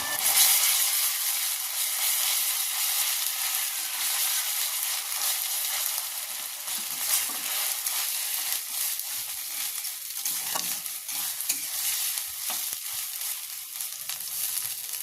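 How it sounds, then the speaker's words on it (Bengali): Ginger garlic paste fries and is stirred in a pan while cooking a green pea ghugni, giving a steady, close, loud sizzle with scraping stir noises throughout and no talking. "দিয়ে আবারও নাড়াচাড়া করে ভালো করে ভেজে নেবো যাতে আদা রসুনের গন্ধ না থাকে"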